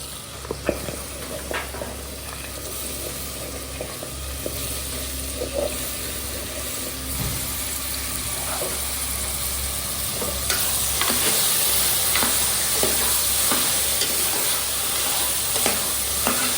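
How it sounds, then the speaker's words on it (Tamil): Carrots, beans and potatoes, about 100 grams each, sauté in a pan for vegetable rice, giving a steady close sizzle with scattered scrapes and clinks from stirring that grow slightly louder toward the end. "சேர்த்து நல்லா வதக்கிடுங்க."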